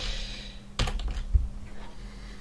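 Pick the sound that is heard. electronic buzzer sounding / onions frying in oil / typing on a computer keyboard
typing on a computer keyboard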